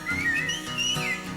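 A person whistles a short, cheerful little tune in a 1984 children's television song. The melody is clear, close and continuous, with a steady musical backing underneath.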